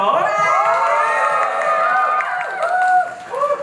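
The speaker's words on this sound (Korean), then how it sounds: "박수 한번 주세요" Audience cheering and shouting at a K-pop showcase talk session in a concert hall, a dense crowd roar with high voices and whoops, loud and sustained.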